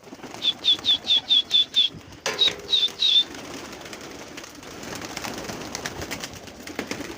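A quick run of repeated pigeon calls followed by a few more calls and a burst of wing flapping, then soft ambient noise.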